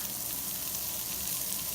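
Chopped onion sautéing in oil in a pressure cooker, a loud, even, unbroken sizzle heard up close with no voices.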